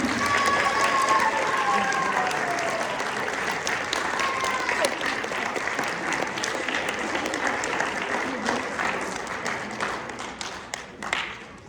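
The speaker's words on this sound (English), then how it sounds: "Let's give them all a round of applause" An audience at a middle school play claps after the show, a full, sustained round of applause with scattered cheers and voices mixed in, thinning toward the end into a few separate claps.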